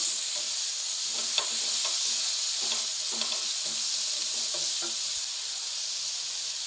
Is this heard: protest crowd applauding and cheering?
no